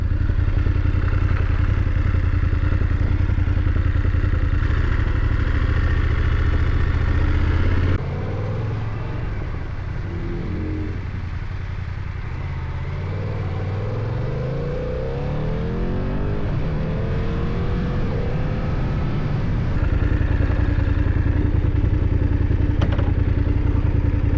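A motorcycle fitted with a new exhaust runs loud and close, dropping to a lower idle for several seconds before rising again toward the end.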